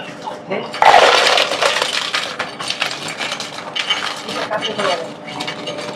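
Utensils clatter and scrape against a dish while food is mixed for a home-cooked lunch in Thailand, a dense, continuous run of close clinks and scraping starting with a sharp knock, with talk faintly underneath.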